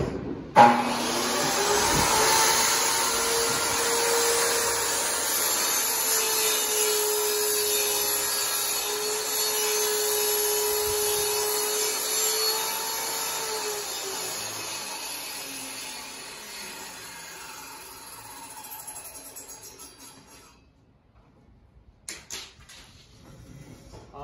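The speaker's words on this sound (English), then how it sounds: "I'm going to rip this piece of 1/4 inch MDF that I have for ripping purposes." DeWalt DW744 table saw ripping a piece of quarter-inch MDF: a steady, loud whining blade cut that holds for about fifteen seconds, then spins down to quiet with a few clunks at the end.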